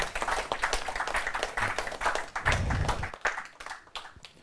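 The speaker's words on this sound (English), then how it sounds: "A round of applause for them." Audience applauding contestants at a law challenge quiz competition, a moderate patter of many hands clapping continuously, fairly close and steady for several seconds.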